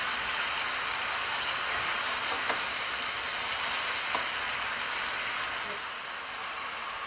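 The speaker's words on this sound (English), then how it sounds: "And these guys, well, they're sizzling away." Scallops sizzling in a hot pan, a steady, dense, loud frying hiss with faint crackles throughout, dipping slightly near the end, without any voice over it.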